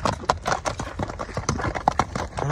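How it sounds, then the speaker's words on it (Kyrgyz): Hooves clip-clop in a quick, steady rhythm as a horse walks close by, each strike crisp and distinct, with no talking. "Өз дагы ат жайдары жүрөт экен да"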